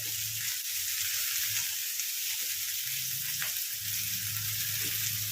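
Ivy gourd pieces frying in oil in a pan, a steady close hiss of sizzling that runs continuously with a few soft stirring bumps.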